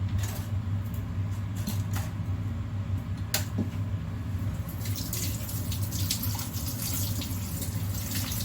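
Tap water runs steadily into a sink while chicken is washed under it, a constant close splashing rush with faint clinks and knocks on top.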